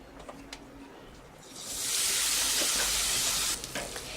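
Grated carrot poured into hot ghee bursts into a loud, broad sizzle after a short quiet stretch of faint clinks, then holds steady for about two seconds before easing off.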